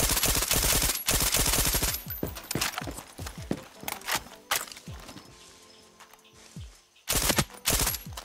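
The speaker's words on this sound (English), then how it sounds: "Do you think I can shoot this person from here?" Gunfire in a video game, with rapid bursts of automatic shots that come loud and close, then thin out into scattered single shots and footsteps before another heavy burst, as a voice speaks briefly.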